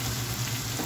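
Ground meat with onions and garlic fries in a pan for moussaka, a steady close sizzle with faint stirring and no voices.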